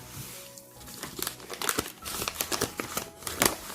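Wrapping paper crinkles and crackles in irregular bursts as a handmade A5 journal from a book bindery is unboxed, the rustling close and fairly loud throughout.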